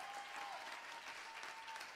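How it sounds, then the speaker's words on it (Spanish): Live TV talk show audience applauding in a continuous, fairly distant wash of clapping, quiet overall, with a faint whistle-like tone above it. "un aplauso para Brian del Toro."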